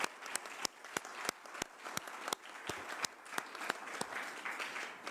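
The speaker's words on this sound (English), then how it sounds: "Can we give her another round of applause?" Audience applause at a national sportspersons' mental health symposium, a steady wash of many hands clapping with sharper individual claps standing out, sustained and fairly even throughout.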